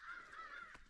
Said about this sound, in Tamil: ஸோ பறவைகள் சத்தம்லாம் கேட்கும்னு நினைக்கிறேன்.